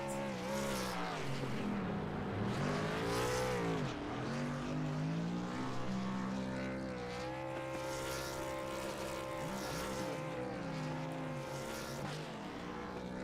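A race truck revs hard in a burnout at the finish of a Truck Series race at Charlotte Motor Speedway in a racing video game, its sustained engine roar rising and falling loudly and continuously with no talk.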